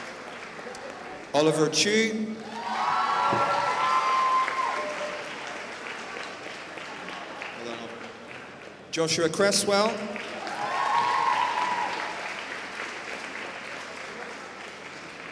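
At a school Year 11 awards ceremony, bursts of crowd applause swell and fade twice as students' names are read out, the clapping rising after each name and tapering away, with a voice announcing over it.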